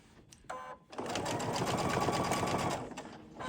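A sewing machine stitching a fabric weight cover, a brief start-up then a fast, even mechanical whir running for about two seconds before stopping, close and clear.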